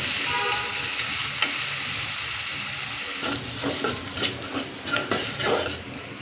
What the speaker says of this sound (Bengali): মশলাগুলিকে ভেজে নিচ্ছি